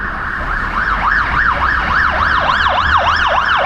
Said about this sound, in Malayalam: ഒരു ആംബുലൻസ് വന്നിട്ടുണ്ട് ഇവിടെ കൂടി.